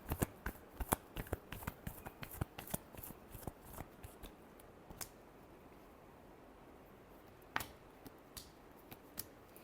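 Tarot cards being shuffled close up, with quick irregular crisp flicks and snaps that thin out toward the end.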